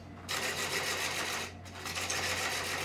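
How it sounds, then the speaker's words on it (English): A half-inch swept-back bowl gouge cuts burl wood on a spinning lathe, shaping the tenon and foot of a live-edge bowl, a steady close buzzing scrape broken by one short pause. "using my half inch swept back bowl gouge, I'll start removing the tenon and the shoulder"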